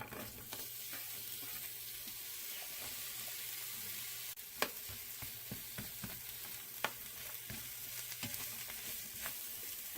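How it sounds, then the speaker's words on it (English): Onion and broccoli sauté over medium heat in olive oil and butter, giving a steady soft sizzle with occasional light clicks of stirring, close and fairly quiet, with no voices. "we're going to put in the onion and the broccoli. We're going to saute it for 5 minutes"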